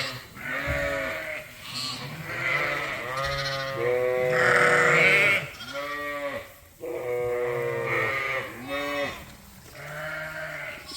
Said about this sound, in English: Still pretty loud in here as moms and lambs try to sort each other out.